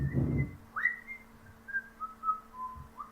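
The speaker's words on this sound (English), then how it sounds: "He was whistling." Someone whistles a simple tune, clear and moderately close, with short sliding notes following a low thump at the start.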